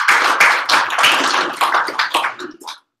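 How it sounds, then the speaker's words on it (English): A burst of applause from a tech talk audience, dense clapping for a few seconds before stopping abruptly. "Let's give this a round of applause."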